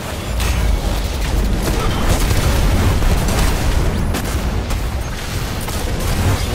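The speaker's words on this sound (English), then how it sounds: "There's a whole lot of explosions going on." Heavy continuous bursts of booming explosions and gunfire from the video game Destiny, loud and dense throughout with no pauses and no speech.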